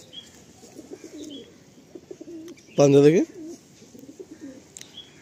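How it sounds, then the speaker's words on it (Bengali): A white fulsira pigeon, a female, gives a single loud close coo in the middle, with softer bird chirps and a voice talking around it. "এই টাইপ অফ ফুলসিরা পায়রা কিন্তু আমার খুব প্রিয় পায়রা।"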